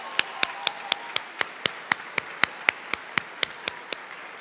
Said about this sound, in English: Let's give these student athletes a big round of applause.